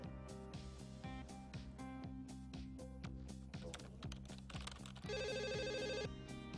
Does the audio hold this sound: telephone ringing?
yes